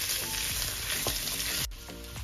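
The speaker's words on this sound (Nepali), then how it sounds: "यसलाई राम्रोसँग चलाएर एकछिन भुट्नुपर्छ।" Soya chunks with green and red peppers stir-fry in a hot pan with a loud, close, continuous sizzle. Brief scraping strokes from stirring cut through the sizzle, and it eases slightly near the end.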